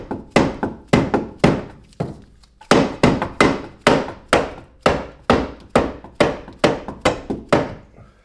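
A mallet strikes the tie rod end on an Audi B5 S4 suspension, giving a series of sharp, loud, close thunks in a steady rhythm with brief pauses, each blow ringing briefly.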